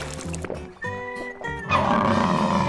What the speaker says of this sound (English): Oh no, mammoth and bison are fighting here.